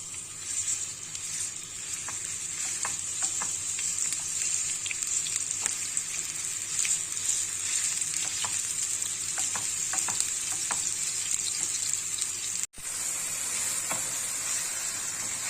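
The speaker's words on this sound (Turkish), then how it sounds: "Kıymamızı yağımızın içerisine alıyoruz." Ground meat sizzles and crackles in hot oil for a kebab dish, a loud, steady frying hiss close by with occasional stirring clicks and a brief dropout near the end.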